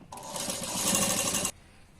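A sewing machine runs in one steady burst of about a second and a half, stitching the lining at the waist of a double katori blouse, loud and close with no talk over it.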